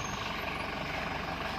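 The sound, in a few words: truck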